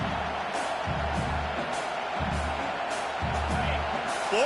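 A college football stadium crowd roars steadily on fourth down, a dense, loud wash of voices with swelling surges of cheering, a continuous roar with no pauses.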